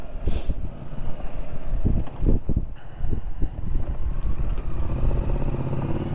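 Onboard ride on a Yamaha Tracer 7 motorcycle along small roads, a steady engine rumble mixed with buffeting wind noise and occasional clatter, close and continuous.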